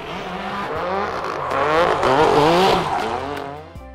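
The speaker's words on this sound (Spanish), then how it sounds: "lo que escuchamos es pura potencia y llantas quemando" A Ken Block Hoonitruck Ford F-150 roars at high power, its engine note rising and falling while tires squeal and skid continuously for several seconds, loud and close, before cutting off abruptly near the end.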